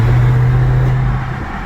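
A Dodge Charger SRT Hellcat with a blown engine drones at a steady low pitch, loud and close, straining without rising in speed before easing slightly toward the end.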